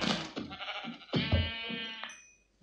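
Sheep bleat in the video game Minecraft, two or three wavering, nasal baas in close succession, fairly near but moderate in level, with no speech over them.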